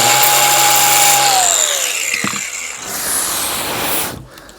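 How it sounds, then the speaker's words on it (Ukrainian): A loud, whining angle grinder spins close by, its pitch dropping as it bites and scrapes against a hard surface, then winds down at the end. "Ми його чухаємо болгаркою."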